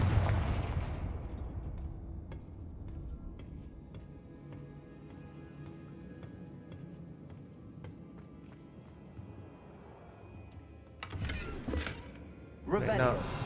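In the video game Hogwarts Legacy, the Confringo blasting spell goes off with a loud, booming burst that fades into a long rumbling decay, and a couple of sharper crackling blasts follow near the end.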